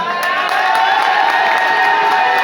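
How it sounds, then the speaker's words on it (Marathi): An audience at a Ganesh patpoojan folk performance in Wadala cheers and claps in a loud, continuous roar of crowd noise, close and unbroken throughout. "जोरदार टाळ्या वाजवा यांच्यासाठी"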